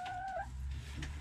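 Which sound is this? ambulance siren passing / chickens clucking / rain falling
chickens clucking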